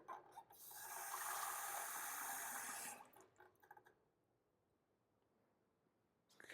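Tap water runs into a container in a steady, close hiss for about two seconds, then cuts off, leaving a few small clinks and handling knocks.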